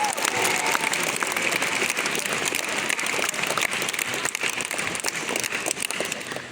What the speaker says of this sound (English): let's give another massive round of applause to the whole team at Bloomberg